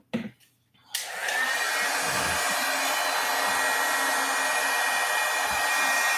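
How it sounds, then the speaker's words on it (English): After a brief close click, a crafting heat tool starts and blows a loud, steady whooshing roar to heat glitter embossing powder, continuing without talk. "the easiest thing I've found when I use glitter embossing powder is to heat it from the underside"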